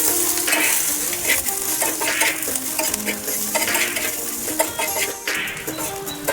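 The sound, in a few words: dry-roasting salt, cumin and chillies in iron pan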